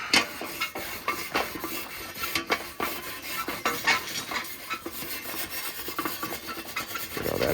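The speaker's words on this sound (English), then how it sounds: "Let's clean this grate right quick." A Weber Smoky Joe grill grate is scraped clean with quick, repeated rasping strokes, a busy irregular scratching rhythm close up and fairly quiet, with no voices.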